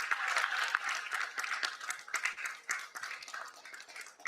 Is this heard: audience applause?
yes